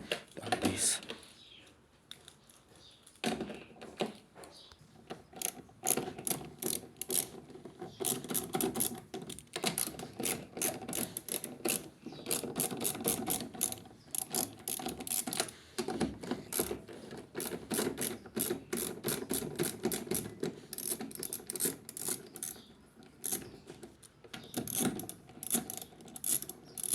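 A washing machine, a turbo drum smart inverter model, is taken apart by hand, with quiet clicks, ratcheting screwdriver turns and small metal taps coming in quick irregular bursts close by.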